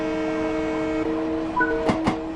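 Train horn of a New York commuter train in the video game Train Sim World VR, a sustained multi-tone blast over rumbling rail noise, followed by two short sharp clanks near the end.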